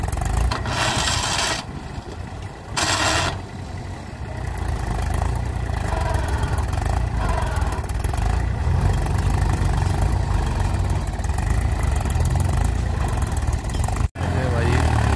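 A Farmtrac 60T20 or Mahindra 275 tractor stuck while pulling a loaded trolley, its engine droning and straining steadily throughout with broadband rumble, a couple of brief hissing bursts early on, and people talking over it.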